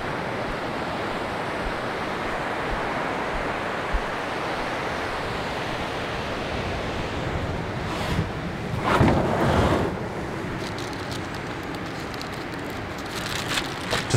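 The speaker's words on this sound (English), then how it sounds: "Nice swell rolling, so it's stirring everything up as well." Ocean swell rolls in on a far-north coast with offshore wind, a steady broadband wash of surf and wind noise throughout, with a louder breaking surge near the middle and lighter splashes toward the end.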